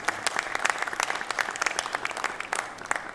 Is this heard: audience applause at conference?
yes